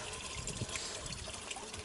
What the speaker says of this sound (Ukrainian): Чиста джерельна вода.